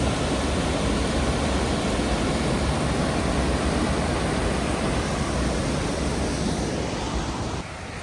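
The waterfall High Force in the Lake District pours as a continuous, dense roar of rushing water, steady and fairly loud throughout, easing slightly at the very end.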